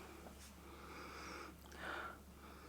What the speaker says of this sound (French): Alors attention, je vais renifler.